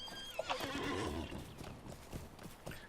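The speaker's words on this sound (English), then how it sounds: "So I'll get on my horse." A horse in the online game Lord of the Rings Online gives a loud whinny, followed by a quick patter of hooves, alone and fairly near.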